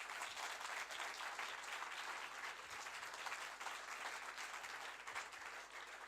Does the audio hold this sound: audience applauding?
yes